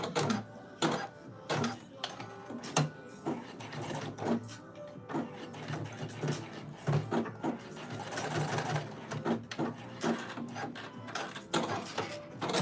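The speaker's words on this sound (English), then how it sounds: "I'm trying to just sew over it." A sewing machine runs in uneven bursts while stitching over a seam opening in a pair of trousers, the needle clattering rhythmically up close with brief pauses and mechanical clicks between runs.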